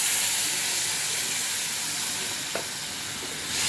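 Water hitting hot masala spiced with sugar in a pan while cooking shankar fish curry, a loud, steady broadband hiss and sizzle that holds throughout, with a brief clink near the end.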